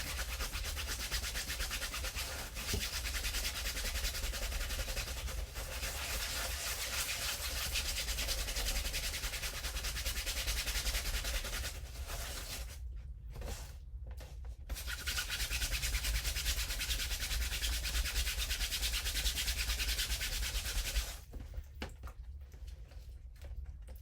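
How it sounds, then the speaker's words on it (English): Paste is scrubbed off a Chalk Couture silkscreen transfer in a continuous, rapid brushing rasp that runs for about twenty seconds. It stops briefly twice, with no speech. "So I'm going to scrub right now, get as much of that paste off as I can"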